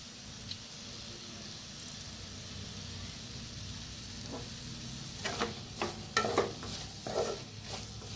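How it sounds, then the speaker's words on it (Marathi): Potato bhaji being stirred and mixed in a pan after a squeeze of lemon juice, a steady soft scraping and sizzle that grows into a few louder, sharper stirring scrapes toward the end, with no voices. "छान मिक्स करून घेऊया।"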